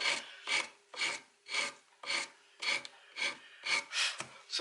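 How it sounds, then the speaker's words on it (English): Sandpaper on a block rubbed along a wooden guitar headstock during final shaping, nine or ten steady rasping strokes in an even back-and-forth rhythm, close and clear with no talking. "just using your block, I'm just coming along and just cutting it with a sandpaper"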